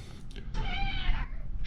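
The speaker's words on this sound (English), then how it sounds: "Shut up cat." A house cat gives a single drawn-out meow close by, rising and then fading, in a quiet workshop where an RC car kit is being assembled.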